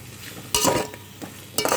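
Carrot and tomato pieces are stirred in a hot oiled pan for Telangana-style bagara rice. Loud spoon-on-pan scrapes come in two bursts over a low sizzle, close up and with no talking.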